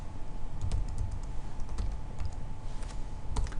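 Typing on a computer keyboard at a steady pace, with close, crisp key clicks over a faint constant hum.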